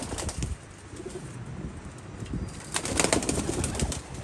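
Pigeons flap and coo nearby in an outdoor setting, with bursts of wing beats and rustling that grow louder toward the end; no one speaks.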